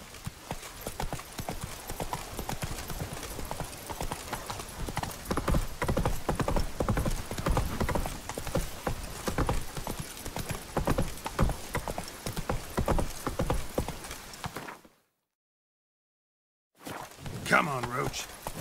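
Roach the horse's hooves in The Witcher 3, rapid rhythmic galloping clip-clop that runs steadily, cuts to silence briefly, then resumes with a voice speaking over it.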